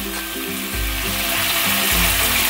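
Onion paste hits chicken frying with ginger and garlic in a pan, setting off a loud, close, continuous sizzle that swells slightly as it goes on.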